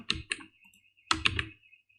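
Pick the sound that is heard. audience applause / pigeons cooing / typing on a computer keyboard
typing on a computer keyboard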